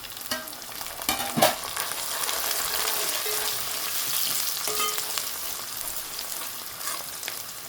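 Onions fry in a pan for a Gujarati dried bombay duck curry, giving a dense, even sizzle close by that holds steady throughout, with a couple of brief clinks near the start.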